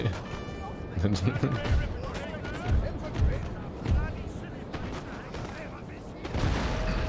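Booming cannon and artillery volleys on a Napoleonic battlefield in Napoleon: Total War, with Great Britain's forces engaged, several heavy low thuds spread through a dense battle din, with voice chatter over the top.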